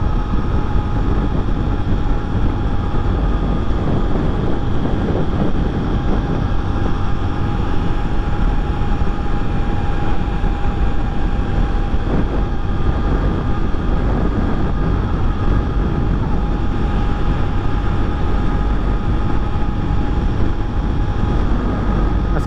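Honda XRE300 motorcycle ridden at top speed on a Sunday ride, a steady loud engine drone with heavy wind rush throughout, no talking.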